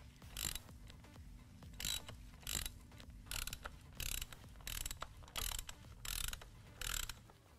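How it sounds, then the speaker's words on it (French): Ratchet wrench with extension loosening the oil filter on a Harley-Davidson Softail motorcycle, about nine short, crisp clicking bursts in a steady back-and-forth rhythm, close and quiet, over a faint low hum. "Prends ta clé à cliquet, ta rallonge de 5-8 et ta clé pour le filtre."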